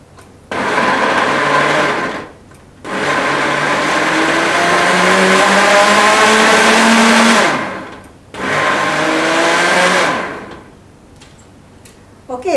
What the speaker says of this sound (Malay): Mari kita blendkan bahan ini dulu.